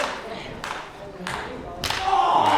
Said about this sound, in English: you heard the thud, the impact there between the shoulders